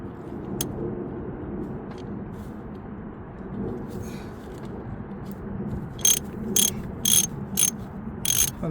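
Work on a second-generation Honda CR-V engine coolant temperature sensor: a steady mechanical hum, then a quick run of sharp ratcheting clicks in short bursts near the end, close by.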